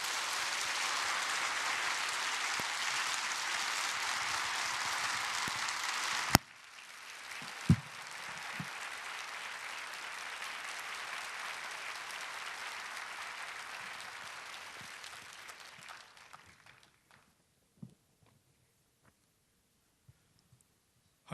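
An audience at a church revival meeting gives a pastor a long round of applause, steady full clapping that drops after a sharp knock, continues, then fades out into near silence with a few small bumps.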